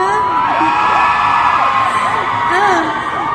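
A loud crowd whooping, screaming and cheering together, sustained and energetic with rising and falling shouts, filling the space close by.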